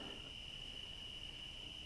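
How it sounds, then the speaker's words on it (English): A steady, high-pitched trill of crickets and tree frogs carries on without a break, quiet and even at night at a campsite on the Appalachian Trail, with no voices. "All I hear are the crickets, tree frogs."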